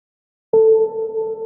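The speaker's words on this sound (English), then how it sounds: "also we have a piano hit which will give you the sound like this." After a brief silence, a single sharp cinematic piano hit sound effect strikes and rings out with a sustained, slowly fading tone.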